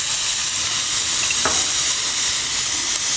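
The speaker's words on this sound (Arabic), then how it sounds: "هنايا درت درت الزيت، نزيد البصله" Chopped onion dropped into hot oil in a pan while cooking couscous with meat gives a steady, close broadband sizzle and hiss throughout, with one brief sharper crackle near the middle and no talking.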